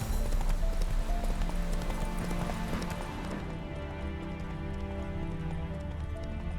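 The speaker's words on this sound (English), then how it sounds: "nicest roads to be riding on, but Roach is a fine horse." Horse hooves clip-clopping steadily on a rough road while riding in The Witcher 3, a loud, continuous trotting rhythm up close.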